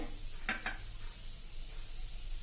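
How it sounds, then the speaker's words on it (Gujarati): Urad dal fries in a pan with a steady, even sizzle, broken by a couple of brief scraping stirs near the start. "હવે આપણી અડદની દાળ પણ સરસ સંતળાવાની તૈયારી થઈ ગઈ છે"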